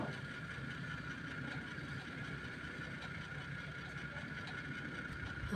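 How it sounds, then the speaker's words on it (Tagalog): A washing machine's drain motor runs as a steady, continuous mechanical hum with a constant tone, heard up close during a repair of an automatic washer, with no talk over it. "Yung kanyang drain motor, oh, umandar na yung drain motor niya."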